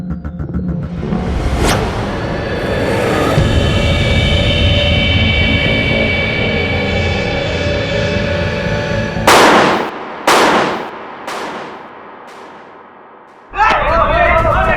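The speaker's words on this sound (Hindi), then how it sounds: "सुबह सुबह पटाखे फोड़ रहा है" Firecrackers go off in the morning, several sharp loud bangs in an irregular series after a long stretch of sustained noise, with a burst of crackling near the end.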